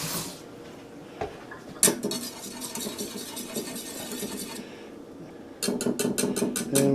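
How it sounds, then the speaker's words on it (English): A utensil scrapes and clinks inside a bowl while stirring an egg and milk mixture for homemade rice pudding, a continuous rough scraping broken by a sharp knock and ending in a rapid run of bright metallic taps. "stir that up."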